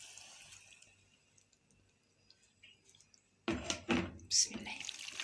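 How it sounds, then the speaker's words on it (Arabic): Water splashes and gurgles into a pot of stuffed cabbage rolls, a sudden burst of close pouring and splattering after a quiet kitchen lull. "انا هسقيه، انا بحط عليه ميه ما بحط الشوربه"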